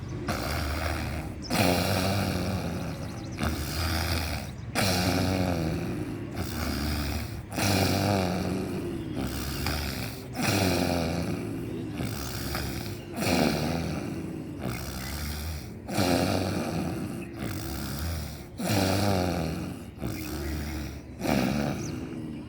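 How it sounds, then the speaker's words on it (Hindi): Snore-like throat breathing during pranayama, a harsh rasping sound made in the throat on each inhale and exhale. Long, even strokes repeat about a dozen times in a steady rhythm, close and fairly loud, with no talking. "सांस लेते समय और छोड़ते समय न गले के अंदर खर्राटे जैसी आवाज़ करनी।"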